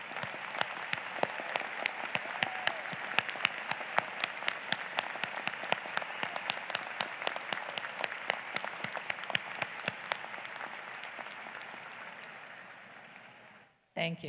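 A hall full of people at a university convocation ceremony applauds armed forces veterans, dense sustained clapping with sharp individual claps standing out, fading gradually before a sudden stop near the end.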